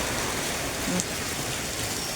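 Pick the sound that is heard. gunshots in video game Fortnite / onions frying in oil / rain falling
rain falling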